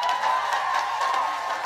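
Steady applause from a crowd at a comedic Islamic sermon, a continuous wash of clapping hands sustained at an even level throughout, with no talking over it.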